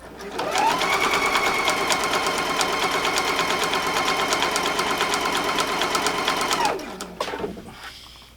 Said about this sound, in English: This machine goes like a bat out of hell, and I don't like sewing that fast.